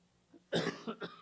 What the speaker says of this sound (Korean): 감기가 더 나았는데 자꾸 이렇게 기침이 나오네요.